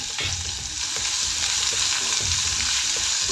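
Chopped onion with ginger-garlic paste and cumin sizzles steadily in a pan for bhindi masala, a close, continuous hiss with a few soft stirring taps.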